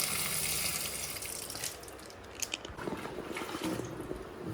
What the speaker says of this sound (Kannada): ನೀರನ್ನು ವಾಪಸ್ ಬಿಟ್ಟರೆ ಹಿಂಗೆ ಹೋಗುತ್ತೆ